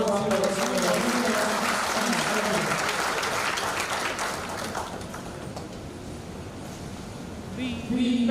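Audience applause at a military passing out ceremony, a broad wash of clapping that thins out midway, with a voice coming through near the end.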